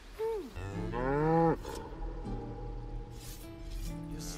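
A cow moos loudly and close, first a short bellow and then a longer, rising and falling low, followed by quieter lowing with faint clicks in the background.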